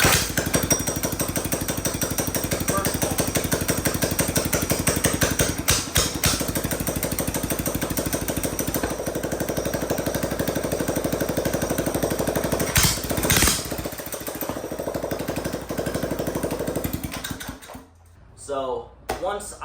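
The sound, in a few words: Coleman CT100 mini bike 196cc engine running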